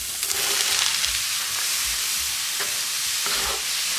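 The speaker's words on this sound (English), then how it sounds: "To my onions, I'm gonna add, this is 12 ounces of chopped mushrooms." Chopped mushrooms and onions fry in a cast iron pan with a loud, steady sizzle, stirred with soft scraping sounds throughout.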